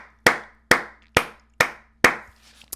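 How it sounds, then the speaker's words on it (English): Five sharp hand claps in a slow, even rhythm, each crisp and close with a short ringing decay, heard alone with no voices. "Just gotta clap it up again."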